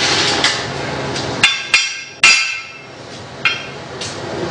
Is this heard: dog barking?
no